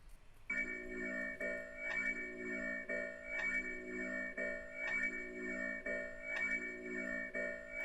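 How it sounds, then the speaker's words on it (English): An intruder alert sound effect repeats a steady pulsing electronic alarm tone, cycling at a regular rhythm roughly every second, faint and alone. "It looks like it's Intruder Alert."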